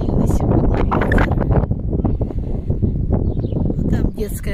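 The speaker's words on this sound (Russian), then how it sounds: "Ветер сильный сегодня." Strong wind buffets the microphone in a courtyard of Soviet-era apartment blocks in Pļavnieki, Riga, a loud, continuous, gusty rumble with rustling, while someone talks throughout.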